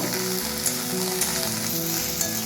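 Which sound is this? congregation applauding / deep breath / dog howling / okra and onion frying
okra and onion frying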